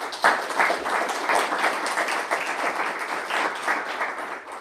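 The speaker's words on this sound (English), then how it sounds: "Another round of applause for Philip" An audience applauds for Philip at a food, tech and sharing event, steady dense clapping sustained from start to finish at a moderate distance, with no talk over it.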